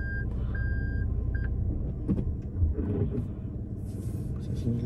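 A car reverses slowly along a village road, its engine rumbling low and close while a few high reversing beeps sound early on, with faint voices in the background.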